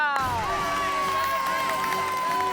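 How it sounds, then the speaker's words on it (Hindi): A crowd cheers and claps for a magic trick in a comedy sitcom scene, a dense, steady roar of voices and hands heard throughout, with a bright, sustained tonal sound running over it. "तो फिर एक बार मुन्नालाल के लिए जोरदार तालियां।"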